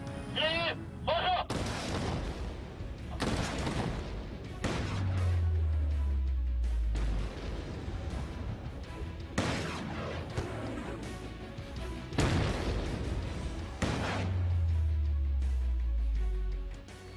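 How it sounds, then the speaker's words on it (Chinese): Launch explosions with heavy smoke on a televised science challenge show, several loud, deep booms and blasts rolling out one after another with rumbling tails, and voices faintly between them. "这一次比前两次任何的烟雾和这种爆炸的效果都大"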